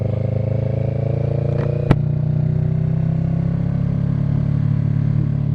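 A motorcycle engine running steadily while the rider shifts gears with clutch and throttle, a low droning hum with a brief sharp click about a third of the way in, then the pitch settling slightly lower as it carries on.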